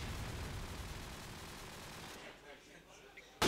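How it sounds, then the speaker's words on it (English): Sniper rifle gunfire in a competitive video game match, a dense burst of shots over roughly two seconds, then quieter game ambience and a sharp loud report at the very end. "As both snipers trade kills."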